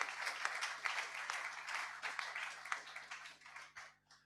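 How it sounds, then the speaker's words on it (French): Audience applause at a Jacques Delors conference honouring the 2020 winner of a book prize on understanding Europe, a steady wash of many hands clapping throughout that thins out and fades near the end. "je vous propose d'abord de l'applaudir pour ce prix qu'il a eu"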